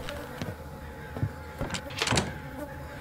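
Someone rattles a locked door in the horror video game From Day To Day, several short knocking jolts and clicks spaced across a few seconds, moderately faint, with no speech.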